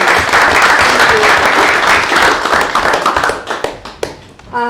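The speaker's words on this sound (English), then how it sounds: "big round of applause for all of you" A council meeting audience applauds steadily, dense clapping that thins out toward the end, with a few last scattered claps.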